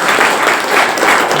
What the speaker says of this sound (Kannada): ಜೋರಾಗಿ ಒಂದು ಬಾರಿ ಚಪ್ಪಾಳೆಯನ್ನ